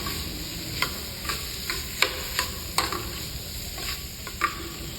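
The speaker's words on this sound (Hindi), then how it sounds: "मिर्ची ऐड करने के बाद बस इसको थोड़ा सा भून लें, मिक्स कर लें।" Green chilies fry with tawa chicken on a hot pan, a constant sizzle broken by sharp scraping taps of a spatula stirring at irregular intervals, close and clear.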